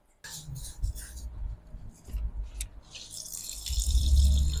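Tap water running and splashing while rice is washed by hand for a chicken curry meal, close and moderately quiet, in uneven bursts that swell into a steadier flow at the end.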